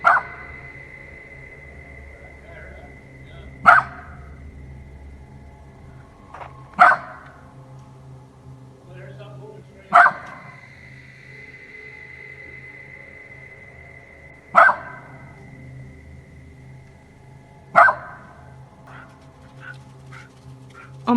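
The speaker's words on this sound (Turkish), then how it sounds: "köpek sürekli o tarafa doğru havlamaya devam ediyor" A dog barks repeatedly toward trees outdoors, sharp single barks spaced a few seconds apart over quiet background, fairly loud and near.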